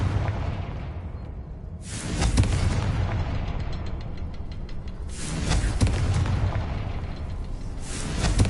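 A Confringo spell in Hogwarts Legacy sets off heavy explosions: loud booming blasts erupt about three times, each followed by a crackling, rumbling tail.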